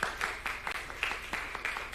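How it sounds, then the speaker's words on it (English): Sparse, faint handclaps from a small group at a national health research conference, sounding as a steady patter of separate claps for about two seconds with no talk over them. "Please give them a round of applause"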